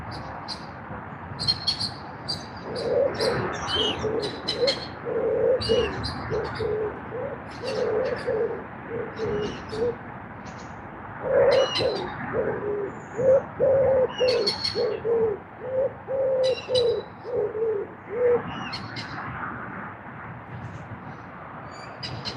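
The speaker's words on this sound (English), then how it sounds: "Skip it, bird. You're making too much noise." A bird near a kayak on a carp-fishing trip calls repeatedly in soft, low cooing phrases with sharp higher chirps scattered between them. The calls come in irregular bursts over quiet water ambience, close and clear, with no talking.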